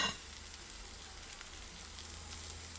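Onions frying and sizzling in a pan while cooking street-style noodle spring rolls, a steady, quiet hiss that continues without a break and without talk.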